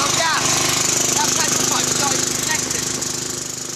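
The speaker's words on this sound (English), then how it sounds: "The lawnmower runs on methane, which means it should run on biogas." A small lawn mower engine converted to run on methane gas chugs loudly and steadily close by, its rapid firing rhythm holding constant before easing slightly toward the end.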